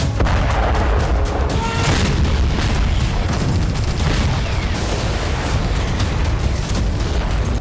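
Heavy artillery fire in the Russia-Ukraine war booms and rumbles continuously, deep blasts overlapping with crackling bursts, loud and dense throughout with no talking.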